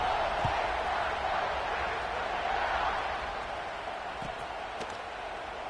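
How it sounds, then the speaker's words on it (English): A stadium crowd in an NCAA college football video game gives off a broad, steady roar during a Buckeyes game, holding level throughout and easing slightly toward the end. "this crowd is buzzing after that last score"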